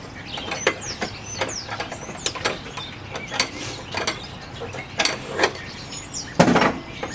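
An air ratchet strains against an over-tightened front strut bolt on a 2000 Chrysler Sebring, giving rapid, loud mechanical clicking and rattling bursts in uneven pulses, close by and with no talking.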